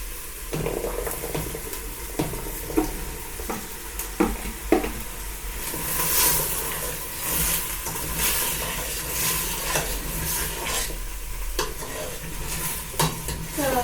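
Bell peppers fry and sizzle in a pan for a sweet-and-sour chicken dish, with a steady hiss broken by repeated scraping stirs and occasional clinks of utensil on pan, close and fairly loud throughout.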